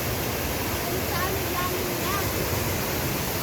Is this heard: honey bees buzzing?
no